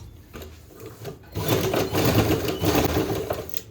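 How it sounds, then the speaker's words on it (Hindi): A sewing machine stitches a blouse in a few short, rapid whirring bursts, starting quietly and getting louder after the first second, with brief pauses between runs. "सेम हमने इस साइड पे भी लगानी है सिलाई"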